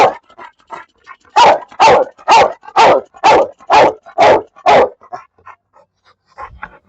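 A shepherd dog at an outdoor dog market barks loudly and close in a run of about eight evenly spaced barks, with softer panting and small yips before and after.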